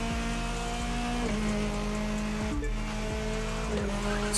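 A Mitsubishi Lancer EVO WRC05 rally car in The Crew 2 video game brakes hard on a US rally stage, its engine note dropping and tires scrubbing under a loud, steady drone.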